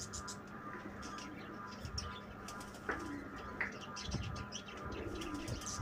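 Pigeons coo softly while pigeon chicks are hand-fed, the low calls blending into a steady background hiss with a few brief brighter chirps.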